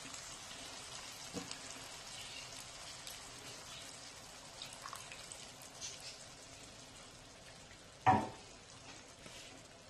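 Milk hits a hot frying pan while cooking breakfast, giving a faint, steady sizzling crackle with scattered small pops and one sharp louder splatter near the end.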